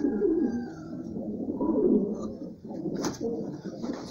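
Pigeons coo outdoors at a racing-pigeon loft, a steady low murmur of overlapping calls that stays fairly close and continuous throughout.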